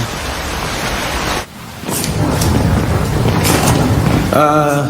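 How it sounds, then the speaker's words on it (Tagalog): Steady broadband rain hiss with a brief dip partway through, then continuing heavy downpour; a faint tonal hum enters near the end. "Iwasan natin ang ulan."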